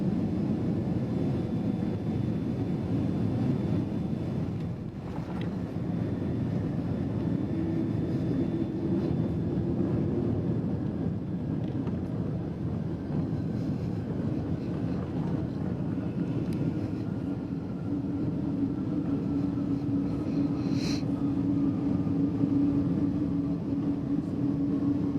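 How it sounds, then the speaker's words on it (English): An airliner lands at Denver International Airport, heard from inside the cabin as a steady, loud low roar of engines and airflow, with a rising tone and brief thumps of the touchdown and rollout. "With that nice landing, I'd like to welcome you all to Denver International Airport."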